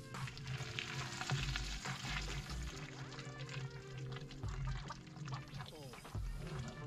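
Raisin wine ferments in a 100-litre barrel as the yeast works, giving a faint, continuous fizzing and crackling bubble noise with low tonal hum beneath it.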